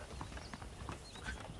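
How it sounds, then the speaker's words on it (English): Horses in the video game Red Dead Redemption, soft irregular hoof clip-clops on the ground with a faint snort, quiet and close, under low background ambience. "The horses are saddled up over here."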